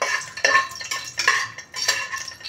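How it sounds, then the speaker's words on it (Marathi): Whole spices such as cardamom and bay leaf are sautéed in a pot, with spoon scrapes and metal clinks coming in three bursts against faint frying in the background. "आता हे आपल्याला परतून घ्यायचं आहे।"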